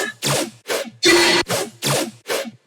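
Dubstep filler bass from a music production project: six short, gritty synth bass bursts in a choppy rhythm, loud and upfront, with brief gaps between each hit.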